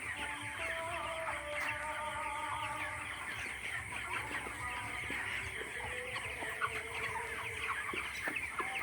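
Many chickens cluck and chatter at once in a busy poultry farm shed at night, a dense steady murmur of fowl with occasional sharper calls, no talking.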